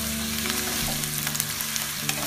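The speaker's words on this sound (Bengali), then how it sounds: "পেঁয়াজটা আমি অল্প ভাজব।" Chopped onion sizzles steadily in a generous amount of oil for vegetable macaroni, a continuous close frying hiss with faint stirring clicks and a steady tone running underneath.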